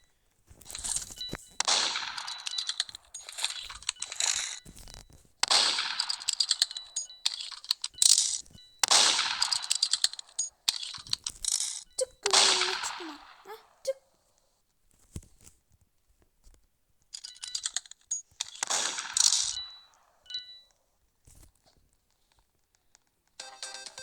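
Gunfire in the Roblox game Murder Mystery 2 comes in several loud bursts of rapid, clanging shots, broken up by short quiet gaps and a few ringing dings, with no voices over it.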